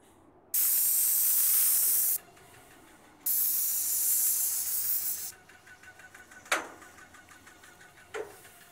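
An airless sprayer applies wood stain to a log house in two long, loud hissing bursts separated by a short pause, followed by quieter rubbing and brushing sounds with a couple of sharp knocks.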